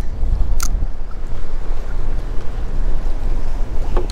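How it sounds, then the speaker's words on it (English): Strong, constant wind roars and buffets outdoors by the sea, with a rumbling low rush and a few faint clicks; no voices. "It's definitely uh, still windy."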